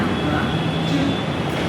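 A Mumbai local train pulls away from the platform, its steady broadband rumble and rattle running continuously and fairly loud, with voices faintly mixed into the station noise.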